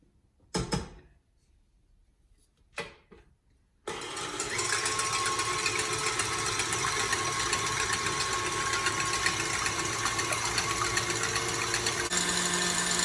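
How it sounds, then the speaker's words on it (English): Stand mixer whipping room-temperature egg whites for French macarons, a steady loud whirring drone that starts abruptly after a few brief clunks and runs continuously to the end. "add my room temperature egg whites into the bowl of my stand mixer and then mix it until it starts to lightly foam"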